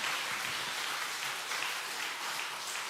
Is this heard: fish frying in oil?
no